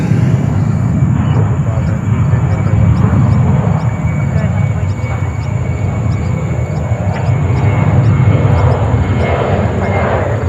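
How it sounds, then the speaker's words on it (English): A JetBlue airliner takes off from runway 13 right at JFK Airport in New York under cloudy skies, its engines giving a loud, steady roar that holds for the whole stretch. "Runway 13 right, clear for takeoff, JetBlue 1529."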